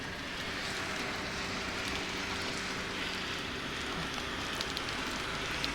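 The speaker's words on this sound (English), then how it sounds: "Rain, rain, rain." Steady rain falls continuously on a wet day in Montenegro, a dense even hiss of drops hitting surfaces close by, with no voices.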